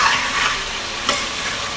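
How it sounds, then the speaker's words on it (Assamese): Potatoes frying in a pan give a steady close sizzle, broken by the scrape of a spoon stirring them and a brief clack near the end. "আলুটো দি মই লৰাওঁ"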